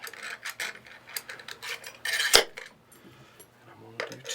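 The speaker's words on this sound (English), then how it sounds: "Now I'm going to stick my through bolts through and put nuts on the front of them." Metal through bolts and nuts handled while reassembling a hot tub pump, with light clinking and rattling taps, a sharper metallic clank in the middle, and someone talking over parts of it.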